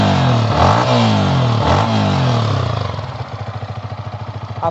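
A motorcycle engine roars up loudly, then settles into a steady, rhythmic idle thump close by, with no one talking.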